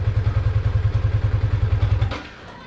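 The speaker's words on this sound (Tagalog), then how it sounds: "Hindi ako naggas at napasobra din yung release ng clutch natin, kaya namatay yung makina ng motor." A Sniper 155 manual motorcycle sputters in a fast, regular thumping rhythm, then stalls abruptly near the end when the clutch is released badly, leaving quiet.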